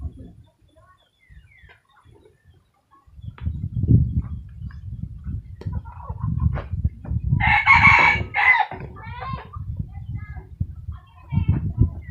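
A Bicol Morillo rooster crows once nearby, a loud two-part call, amid low rustling and handling noises with some quiet background activity.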